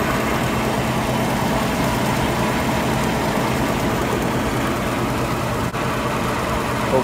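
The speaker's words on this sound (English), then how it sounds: "The motor will operate until I can get back here." An electric motor with a bad start capacitor runs with a steady, loud, dense hum and rumble that holds unbroken, except for a brief click near the end, and no one talks.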